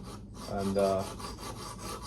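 An S30V steel knife is sharpened on a TSPROF Pioneer with Alpha stones, giving a single short, close rasping stroke of stone against steel over a faint steady background.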